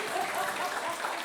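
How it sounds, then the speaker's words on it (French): Audience applause at a French neuroscience talk and demonstration, a brief, steady wash of clapping from the crowd, moderately loud, with a faint murmur of voices underneath. "On applaudit Walter, du coup."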